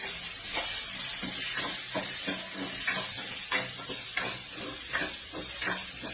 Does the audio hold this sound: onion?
yes